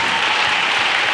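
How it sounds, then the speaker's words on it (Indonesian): Applause from a large audience of students at a motivational seminar, a dense continuous wash of clapping, loud and close throughout, with no voices over it. "Tepuk tangan untuk kita semuanya."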